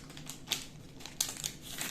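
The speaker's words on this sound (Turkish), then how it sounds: "Kumandamızın poşetini açmak istiyorum şöyle." The plastic bag around the remote control of a Xiaomi Mi Box S 4K Android TV box being opened: short, close crinkling rustles of thin plastic in a few quick bursts, with no talk.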